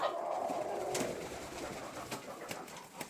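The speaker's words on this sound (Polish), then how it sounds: "Ładny gołąbek." A pigeon coos softly in a low, throaty murmur, close but faint, against steady background noise and a few light rustles.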